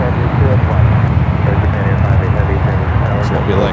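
A full Boeing 777 airliner on arrival at San Francisco airport gives a loud, steady engine roar through the whole stretch. Someone talks over it.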